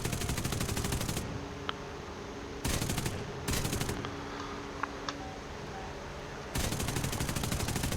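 Aircraft machine guns firing in the War Thunder flight combat game: rapid, rattling bursts alternate with stretches of engine drone, the bursts coming three times, close and loud, with no talking.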